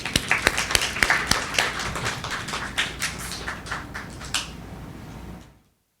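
Scattered audience clapping at a literary reading event, a handful of distinct sharp claps building into light applause before stopping abruptly, fairly close and modest in size.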